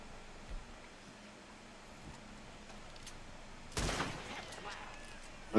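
Gunshots fired at a lock in Red Dead Redemption II: a faint early pop, then one sharp loud blast with a short echoing tail, over quiet ambience.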